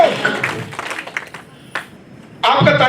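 Audience applause bursting out loudly near the end after a quieter stretch of mixed crowd noise and voices, at an honours event for a club.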